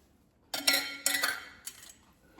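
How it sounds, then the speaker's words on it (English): Metal canning lids clinking together as they are gathered with a magnetized lid stick, two bright clusters of metallic taps followed by a lighter clink, close and clear with no talking. "The kit also had this magnetized stick so that I can collect my lids and then place them on the jar."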